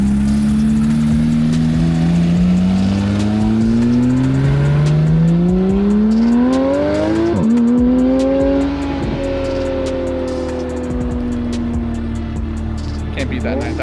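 A Cadillac CT5-V Blackwing V8 revving toward its 9,000 RPM redline, the engine note climbing and falling through downshifts, loud and close with a steady drone beneath.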